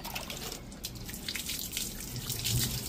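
Water splashing and dripping as puppies are bathed at home, soft trickles and scattered drips at low level, fairly close, with no clear talk.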